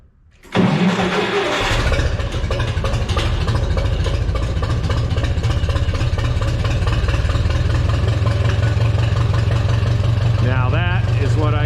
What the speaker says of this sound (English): Now that is what I call a good tractor.